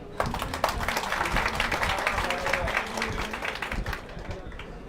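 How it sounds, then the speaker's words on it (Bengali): Applause for newly elected MPs at a university alumni reception and iftar gathering: a crowd claps steadily for a few seconds, a dense, even patter filling the hall before fading slightly. "আমরা একটু জোরে করতালি দিই"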